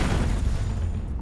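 A pistol shot in the video game Shadow Complex, a single loud booming report that fills the clip and then fades slowly into a low rumbling decay.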